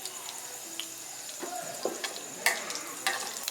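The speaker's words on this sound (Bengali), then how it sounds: "ওই মাছ ভাজার তেলের মধ্যেই ফোড়নটা দিয়ে নেব" Whole dried red chilies and nigella seeds crackle in leftover fish-frying oil as a tempering, making faint, close sizzling with scattered small pops and ticks over a soft hiss, no one speaking.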